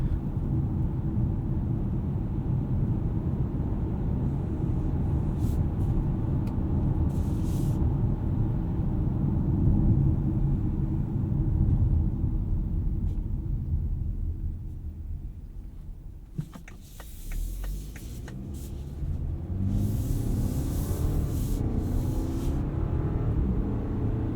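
Steady interior road rumble from a 2018 BMW X3 xDrive30i with an 8-speed transmission, driving over bumpy sections of road, heard as a binaural recording. A constant low drone with a brief dip partway through and some faint knocks.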